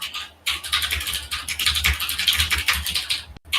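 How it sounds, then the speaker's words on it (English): Rapid, loud clacking of a computer keyboard being typed on continuously, with a brief pause near the start and a short gap near the end. "I forget how loud my keyboard is."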